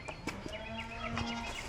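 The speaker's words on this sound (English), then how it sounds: "You can hear the cows back there." Cows low faintly in the distance on a homestead farm, one drawn-out call rising above rustling and other outdoor farmyard noise.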